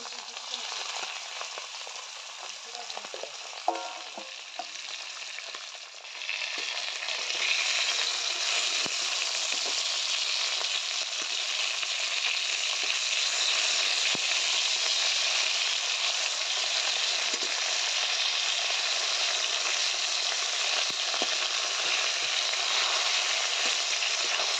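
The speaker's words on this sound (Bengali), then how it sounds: "তো এইভাবে সম্পূর্ণ মাছগুলো আমি ভেজে নেব।" Bhola fish frying in hot oil in a wok, giving a loud, dense, continuous sizzle that swells after a few seconds and stays steady and close with no talk.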